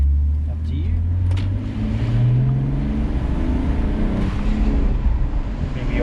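A BMW E46 330ci engine revs and pulls hard from inside the cabin, a steady loud rumble rising in pitch, with voices briefly under it.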